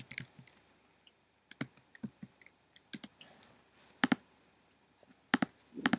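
Keystrokes on a computer keyboard while text is edited on screen, coming as scattered clicks and short bursts of rapid taps with brief pauses between them, close and fairly quiet with no talking.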